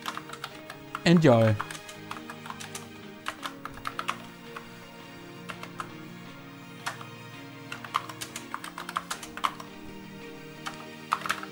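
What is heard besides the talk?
typing on a repaired Luxor ABC 80 computer keyboard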